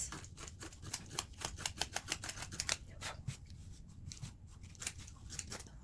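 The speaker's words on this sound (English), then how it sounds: "grab your X-Acto knife and very carefully cut through" Short, crisp snips and scrapes of an X-Acto knife slicing through stacked layers of denim jeans, coming in quick irregular bursts close up, with a few pauses between strokes.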